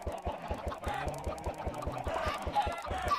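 Many chickens in the video game Minecraft, a dense, continuous run of overlapping clucks and short honk-like calls at moderate loudness, with no voices.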